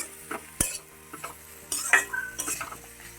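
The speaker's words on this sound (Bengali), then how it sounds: "ভালো করে কষিয়ে নেব বন্ধুরা" Fish curry masala is sautéed and stirred in a pan, giving short scraping and clinking strokes of a utensil over a light sizzle, close and alone.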